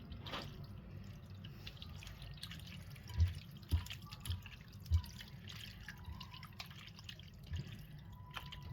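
Water drips from boiled chicken gizzards as they drain in a home kitchen, giving a few soft, irregular drops over a low, steady background hum.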